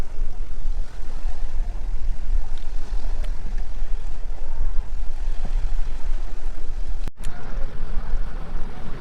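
Boat moving over open water near a fish market, with a steady low engine rumble and strong wind buffeting the microphone throughout.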